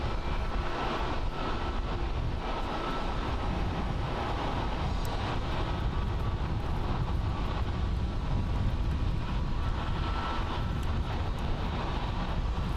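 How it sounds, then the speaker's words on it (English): Airliners taxi for departure at Haneda Airport in Tokyo, a continuous broad roar of jet engines heard at a distance, steady and unbroken throughout. "we will have some international flights coming from the Terminal 3, taxiing over here for departure"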